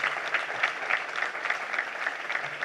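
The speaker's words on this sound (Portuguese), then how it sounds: "salva de palmas para os nossos empregados também" Attendees at a cooperative's annual general assembly clap for the employees, a steady round of applause from a moderate crowd with slightly pulsing, even rhythm and no talking.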